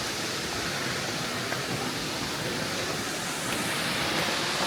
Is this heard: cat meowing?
no